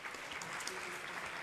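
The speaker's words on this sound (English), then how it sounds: "Please give yourselves a round of applause" Audience at an ISKCON New York fundraiser applauding, a steady wash of clapping at moderate, distant volume that holds evenly throughout.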